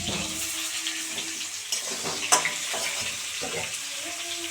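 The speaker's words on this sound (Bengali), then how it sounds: "এই যে আলু ভাজা হচ্ছে এখানে।" Close, continuous sizzle of potatoes frying in a pan during a home picnic cook-up, broken by occasional stirring scrapes and a sharp utensil clink midway.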